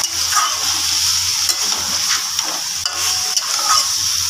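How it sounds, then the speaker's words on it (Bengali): Cauliflower and potato sautéing in a hot pan, a continuous close sizzle with a rhythmic scrape of a spatula stirring every half second or so, no voices. "ফুলকপি আর আলু দিয়ে ভালো করে কষিয়ে নিলাম।"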